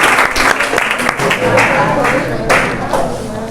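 Ninth- and tenth-grade students clapping together in a classroom during a monthly test results prize-giving, a loud dense burst of applause close by that fills the whole moment.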